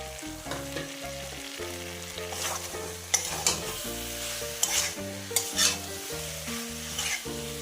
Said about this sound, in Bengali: এবার আমি এতে একটু লাল লঙ্কার গুঁড়ো দিয়ে দেব তার সাথে আমি যে ভাজা মশলাটা করে রেখেছিলাম সেইটা দিয়ে দিচ্ছি